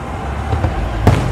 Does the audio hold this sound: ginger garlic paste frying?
no